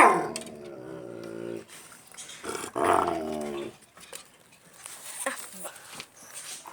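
A dog growls and whimpers in drawn-out, rising and falling vocal bursts close by, with a voice talking between them.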